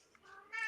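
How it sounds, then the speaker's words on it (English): A pet cat gives a short, faint chirping call, a brief rising trill that brightens at the end, heard indoors in a quiet room. "that's my cat chirping"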